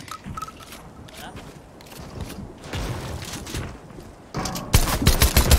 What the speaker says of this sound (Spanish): Disparamos.